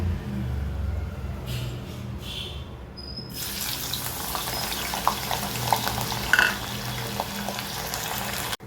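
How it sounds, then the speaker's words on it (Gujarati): Potato chips frying in hot oil in a kadai, a steady loud sizzle and crackle that bursts in partway through and continues with occasional pops. "પહેલાં આપણે બટેકાની ચિપ્સને તળી લેશું સરખી રીતે"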